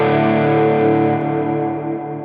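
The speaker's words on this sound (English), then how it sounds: "And it's like a backward strum" Electric guitar backward strum with overdrive, heavy reverb and delay swells in as a single sustained, thick chord that lingers and slowly fades, with no other sound.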